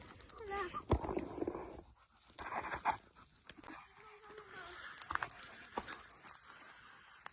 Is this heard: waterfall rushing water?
no